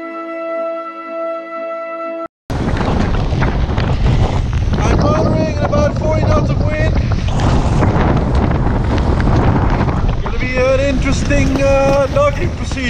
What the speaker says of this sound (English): Lots of wind, way more than predicted.